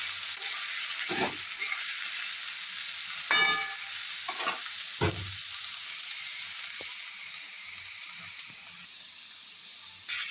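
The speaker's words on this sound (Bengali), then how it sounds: "আঁচটা বাড়িয়ে নিয়েছি, যে আমি এবার ঝটপট ভালো করে এটা ভেজে নেব।" Chopped vegetables stir-frying over high heat in a pan for chili fish fried rice, a steady close hiss and sizzle broken by a few scraping stirs and clatters, with no talking.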